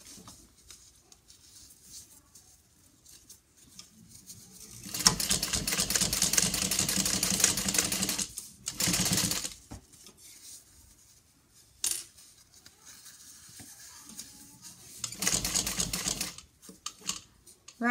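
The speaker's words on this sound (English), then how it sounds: "And keep sewing." A sewing machine stitches a Daytona handbag in bursts of rapid mechanical stitching, one longer run and a few shorter ones, separated by quiet pauses.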